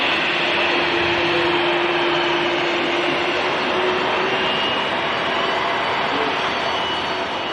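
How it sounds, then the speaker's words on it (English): An Air Transat Airbus A321neo long range, just in from Toronto, gives off a loud, steady broadband jet roar as it rolls out after landing, with a faint tonal whine running through it. "Air Transat just landed, coming in from Toronto"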